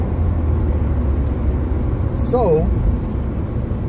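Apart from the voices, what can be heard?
car driving on the freeway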